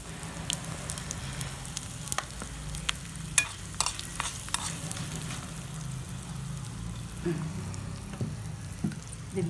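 Hot oil tempering with dried red chillies, curry leaves, garlic and hing sizzles and crackles steadily in a pan, with sharp pops scattered through the close, continuous frying.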